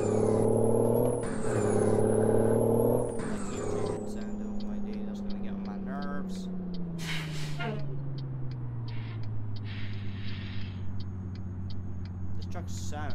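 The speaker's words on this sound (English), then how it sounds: "This truck sounds amazing." Simulated truck engine from the American Truck Simulator game, a loud steady diesel drone with strong low harmonics that slowly drops in pitch, heard with high whistling tones and sharp transient clicks. A voice speaks over it.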